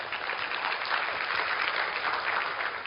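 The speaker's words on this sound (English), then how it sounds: "Everyone give her a big clap." A seated audience at a talk about direct selling applauds together, producing a continuous, evenly sustained clapping that stays at a moderate level from start to finish.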